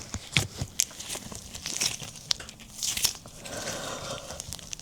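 Foam clay squished, pressed and rolled by hand into a sausage shape, giving soft close-up crinkling, squelching and tearing sounds in irregular bursts with no talking.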